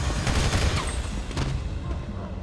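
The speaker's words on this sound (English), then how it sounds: "Shots fired by troopers." A dense, continuous burst of gunfire in GTA 5, with many overlapping shots crackling in a rapid fusillade over a low rumble, loud and steady throughout.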